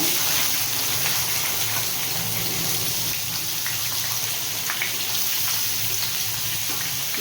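Chopped onion hitting hot oil in a pan while cooking a chicken dish, a steady broadband sizzle that runs on without a break for several seconds, close and alone with no voices.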